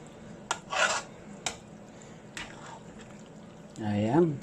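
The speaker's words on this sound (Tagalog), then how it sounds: "wag nating tigilan ng paghalo hanggang sa maging dry siya" Pork dinuguan with tamarind mix being stirred in a pot until dry, with spoon scrapes and clinks against the pan in short bursts, and a voice speaking between them.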